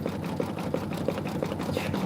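Sewing machine running a cover stitch on a quilt block, a steady close mechanical whir with a regular ticking pulse, alone without talk.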